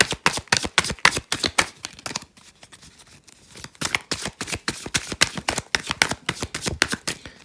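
Tarot cards are shuffled in quick bursts of crisp riffling slaps, pausing briefly midway before resuming the brisk, close card flicking.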